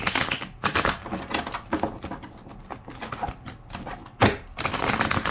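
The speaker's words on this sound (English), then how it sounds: "Two more shuffles." Rapid papery riffling bursts repeat in quick succession, close and fairly loud, as tarot cards are shuffled by hand with short pauses between riffles.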